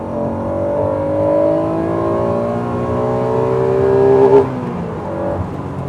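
A 1994 Honda NSX sports car engine revs hard and high past 8000 rpm, its pitch climbing steadily through the gears, loud and close with no voices.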